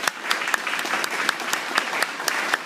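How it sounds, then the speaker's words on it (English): A crowd applauds Congressman Roscoe Bartlett at a Frostburg State University energy event, a steady dense round of clapping with sharper individual claps standing out throughout. "owes Congressman Roscoe Bartlett a big round of applause"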